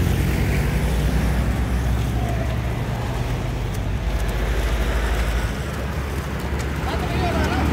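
Road traffic rumbles steadily as a car drives past on a street where heifers are holding up the flow, the low engine drone continuous beneath excited voices talking and shouting.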